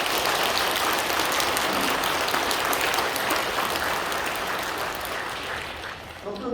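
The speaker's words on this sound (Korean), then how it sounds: "박수 한번 부탁드립니다." Sustained applause from a congregation at a Catholic farewell mass in a church, a dense, steady clapping that fills the space throughout and tapers slightly toward the end.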